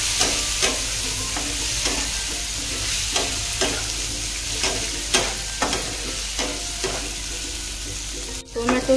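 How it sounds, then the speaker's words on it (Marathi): Tomato fries and sizzles steadily in a pan while a spoon stirs it in regular scraping strokes. The sound is close and fairly loud, with no voices. "टोमॅटो छान परतला"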